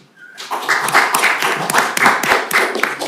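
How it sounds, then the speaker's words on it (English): A small group claps at a city council meeting, starting abruptly and continuing as loud, close, uneven hand claps for a few seconds. "I think that deserves a round of applause even."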